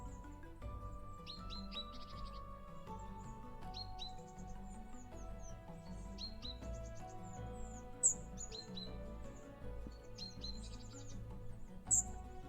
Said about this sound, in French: Oui, les oiseaux, qu'est-ce que c'est?